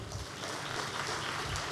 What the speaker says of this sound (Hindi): सभी मुंबई टीम के लिए जोरदार तालियां